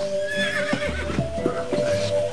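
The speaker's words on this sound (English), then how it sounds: "I want that horse too for my stage, dude." A horse whinnies in the LittleBigPlanet video game, a drawn-out neigh with faint hoof clip-clop beneath it, steady and fairly close over a low hum.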